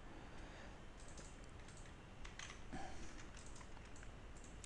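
Keys tapped on a computer keyboard while a password is typed, giving a soft, fairly steady run of light clicks against a constant hiss with no talk.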